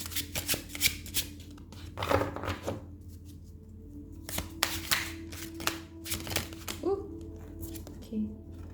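Tarot cards being shuffled and drawn by hand, giving repeated bursts of crisp riffling and flicking with soft slaps between them, fairly close, and a voice speaking in the gaps.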